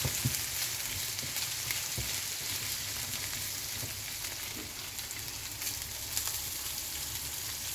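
Three large onions frying in a pan, with a steady, even sizzle and faint crackles running throughout and no voices.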